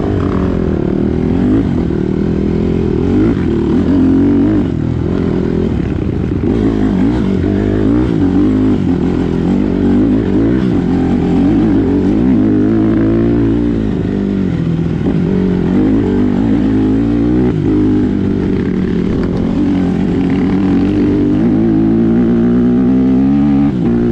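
A Honda CRF150RB dirt bike on a trail ride, recorded loud from on board, gives a continuous engine drone that rises and falls as the rider works the throttle, with no speech throughout.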